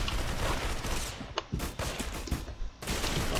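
Rapid gunfire from the Roblox game Arsenal, a dense stream of sharp shots with brief gaps, loud and close throughout with no talk.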